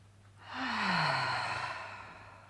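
A long, deep breath in a calm evening yin yoga stretch, one smooth airy exhalation swelling and fading over a couple of seconds, close and clear with no talking.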